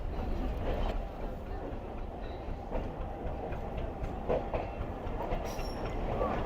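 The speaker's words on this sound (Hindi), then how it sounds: "मुझे ऐसा लग रहा है कि ट्रेन हमारी प्लेटफॉर्म नंबर 2 की तरफ बढ़ रही है" A train rolls slowly toward a platform in the dark Kotri rail yard at night, with a continuous low rumble and faint clacking of wheels, steady and fairly near.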